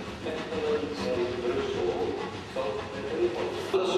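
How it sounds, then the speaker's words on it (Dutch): International train from Brussels to Amsterdam Centraal rolling into a station, a steady rumble and rail hiss with a few wheel clacks, moderately near and continuous throughout. "De internationale trein uit Brussel naar Amsterdam Centraal komt hier binnen."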